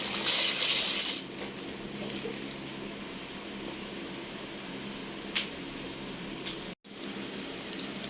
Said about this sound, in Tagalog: Lagay na natin yung pasta.